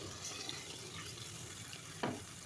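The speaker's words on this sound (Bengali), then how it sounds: "ছড়িয়ে ছিটিয়ে দেওয়ার পরে দিয়ে দেব একটু পানি" Water is poured into a pan of thin hilsa fish curry with fried eggplant, a faint continuous trickling hiss with one slightly louder splash near the end.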